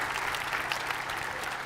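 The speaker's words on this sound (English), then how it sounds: "You can clap." Applause at a high school graduation ceremony, a steady dense wash of many hands clapping at even loudness throughout, with no break and no voices on top.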